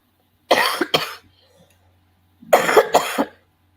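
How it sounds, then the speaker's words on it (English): Two separate bursts of coughing, a pair of sharp coughs followed after a pause by a longer, harsher cluster, close and loud with nothing else around them. "Sorry, I seem to be having a bad cough."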